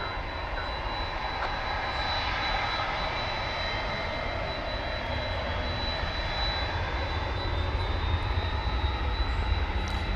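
Jet airliner taxiing at DFW Airport, a steady broad engine roar that holds at an even, fairly loud level throughout with no talk over it.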